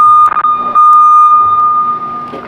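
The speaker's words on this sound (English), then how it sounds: "And this also has a backup alarm." A backup alarm on a 2009 Toyota electric order picker sounds as one steady, loud electronic tone held for about two seconds, with faint room noise and brief clatter around it.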